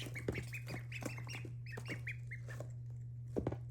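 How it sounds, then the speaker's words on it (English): Several ducks quack in short, nasal bursts close by, scattered irregular calls over a steady low electrical hum, with a louder cluster near the end. "here's the ducks"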